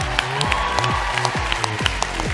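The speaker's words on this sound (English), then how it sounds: "Guys, round of applause for John Carr." An audience in a chapel applauds a man honored for his cooking, a dense burst of clapping with some voices rising through it.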